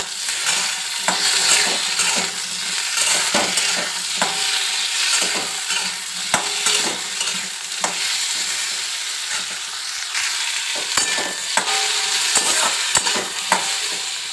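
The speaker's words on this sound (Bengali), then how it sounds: "এখানে আলুগুলো ভেজে নিই, আবার বেগুনগুলো এর সঙ্গে ভেজে নিই।" Potatoes, eggplant and tomato fry in a pan with a loud, continuous hiss, while a utensil scrapes and taps against the pan in irregular strokes as the vegetables are stirred, close up.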